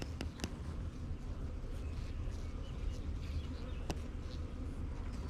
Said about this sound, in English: look at all those bees in there.